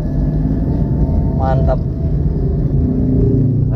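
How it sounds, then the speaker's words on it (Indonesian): Congested traffic jam with car engines idling in a dense, steady low rumble close by, a brief voice rising over it midway. "Ye, macet di sini."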